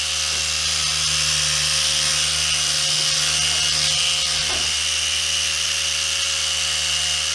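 Adam's Polishes cordless micro polisher spinning steadily with a continuous high whine and motor hum, held close, with a slight dip partway as it is loaded against a surface, then carrying on without stopping.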